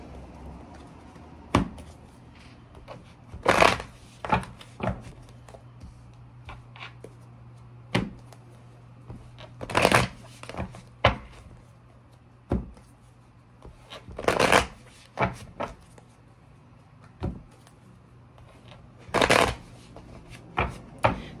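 A deck of tarot cards is shuffled again and again, each riffle a short crisp flutter of cards, with pauses of a few seconds between them over a faint low hum.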